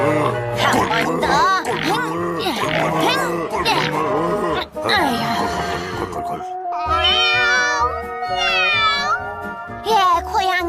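A voice imitates a cat with a series of sliding, wavering meows, close and loud, mixed with talking at first and ending in longer drawn-out mewing cries.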